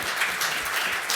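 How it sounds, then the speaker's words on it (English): Brief burst of audience applause at a talk on intactivism, a dense patter of clapping at steady loudness. "applause."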